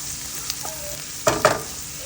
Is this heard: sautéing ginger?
yes